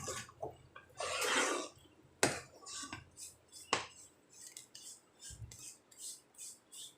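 A spoon scraping and stirring dry ginger milk in a pot, with a long rough scrape followed by several sharp clinks and lighter scrapes, close and fairly quiet, no talk.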